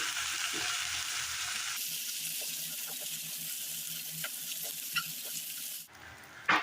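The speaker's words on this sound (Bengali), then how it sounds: "এবার আদা রসুন বাটাটা দিয়ে দেবো।" Ginger-garlic paste drops into a pan of oil and fried onions for a fish curry, a soft sizzle with occasional stirring clicks, faint and close, ending in a sudden louder burst; no talking.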